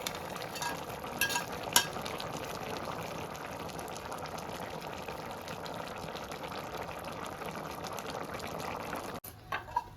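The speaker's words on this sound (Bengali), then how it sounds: "তো এবার আমি চিংড়ি মাছগুলো দিয়ে দিচ্ছি।" Prawns frying in a pan after cumin and black pepper paste, crackling and sizzling steadily for about nine seconds with scraping stirs, a few louder clatters near the start, ending abruptly before a couple of final knocks; no talking.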